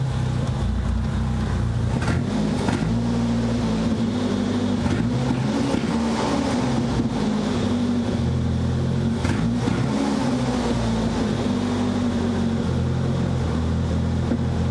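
A Nissan 200SX turbo engine runs with a low rumbling drone, its pitch rising and falling in a few revs, close and steady with no voices.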